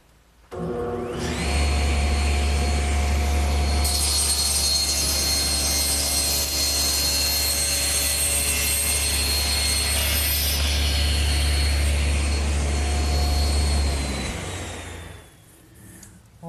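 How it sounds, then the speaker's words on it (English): A table saw with a homemade panel cutter riding in the miter gauge slot trims a wooden side panel: the motor spins up into a steady loud whine, holds through a long cut, then winds down and stops. "I'm going to use my homemade panel cutter, which simply rides in the miter gauge slot."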